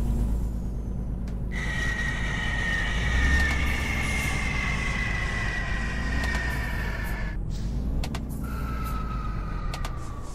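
A heavy truck engine in Euro Truck Simulator 2 drones steadily with a whining tone, the pitch rising and falling as it shifts, broken by a few sharp hiss-like bursts.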